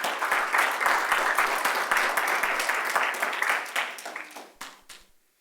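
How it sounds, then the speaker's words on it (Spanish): A church congregation applauds during a Sunday service, a dense burst of many hands clapping that holds steady, then thins and fades out over a few seconds. "Dele un aplauso al Señor"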